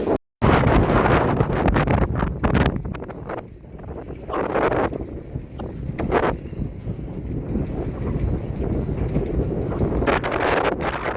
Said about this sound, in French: tout le bruit qu'il y a dans notre mât